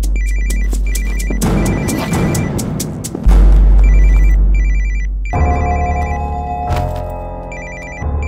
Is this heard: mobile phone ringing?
yes